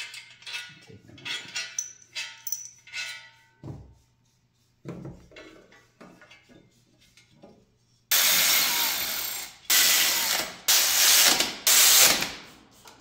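Exhaust bolts being removed on a 2014 Porsche Cayman S (981) during a full exhaust install, with quick ratchet clicks in short bursts, followed by several louder, harsher bursts of sustained mechanical whirring, close by.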